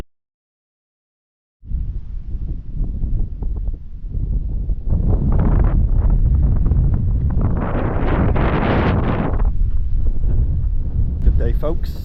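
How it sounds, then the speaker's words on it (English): Strong wind buffets the microphone on Parys Mountain in North Wales, starting after a short silence and roaring loud and continuous, with gusts building toward the end. "Very windy today, folks, very windy."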